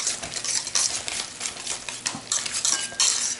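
A spoon clinks and scrapes against a bowl as a grated Parmesan cheese mixture for meat lasagna is stirred, a close, busy run of rhythmic metallic taps and scrapes with no voices.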